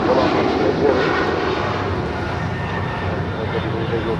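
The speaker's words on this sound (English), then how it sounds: "That is Austrian Airlines Flight 82 departing back to Vienna on a 777-200ER." Austrian Airlines Boeing 777-200ER jet departing Los Angeles International Airport, a loud, steady broadband engine roar filling the whole stretch, with a voice talking over it.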